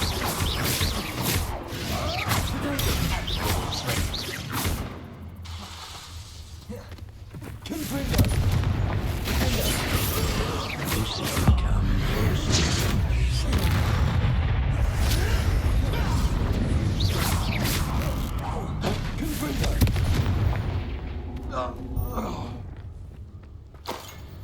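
Repeated fiery Confringo blasting spells in Hogwarts Legacy erupt as heavy booms and crashes with whooshing bursts, loud and near, pounding almost continuously through a long combat stretch with brief lulls.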